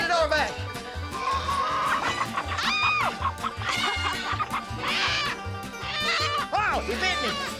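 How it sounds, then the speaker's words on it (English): A chicken squawks and clucks in loud, frantic bursts amid indoor commotion, with people talking and shouting over the noise throughout. "this chicken fires up and we can't even hear each other talk"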